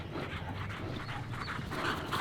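German Shepherd puppy panting close by, a quick continuous breathy rhythm at moderate volume with no talking.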